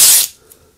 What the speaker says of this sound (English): I'm just going to run a little bit of masking tape in